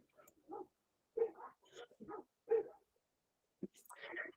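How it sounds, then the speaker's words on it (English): Neighborhood dogs barking in the distance, several faint separate woofs and yips spaced irregularly, with quiet speech-like murmurs mixed in. "Got some neighborhood dogs barking."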